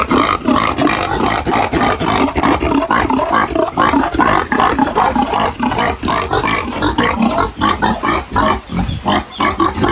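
Pigs squeal loudly and continuously, a dense chorus of shrill, overlapping cries and grunts close by, with no voices.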